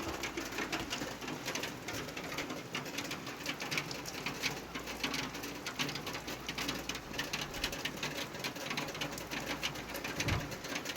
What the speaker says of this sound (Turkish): Hem de güzel yağıyor yani.